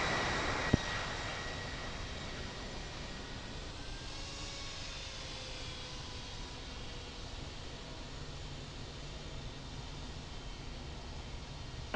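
An airliner takes off from a Salt Lake City Airport runway, a steady broadband engine roar heard from a distance, with a faint rising whine and a couple of sharp clicks.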